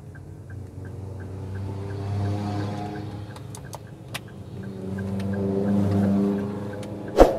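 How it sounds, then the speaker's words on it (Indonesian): Car engine revving in low gear while climbing an uphill road, RPM rising and falling in smooth waves with a steady drone underneath, moderately close, faint clicks and a brief sharp knock near the end, no speech. "ini kita injak gas, ini masih bisa RPM-nya naik terus"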